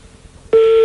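A French telephone line heard during a radio prank call: after a brief quiet stretch, a loud, steady single-pitch ringing tone starts abruptly and continues unbroken.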